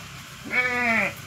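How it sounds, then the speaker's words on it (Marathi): A single sheep bleat, a wavering nasal call lasting about half a second, fairly close and clear over faint background noise, heard as sheep pass along a road. "मेंढी कशी ओरडते?"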